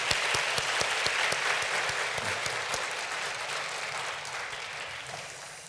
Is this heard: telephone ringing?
no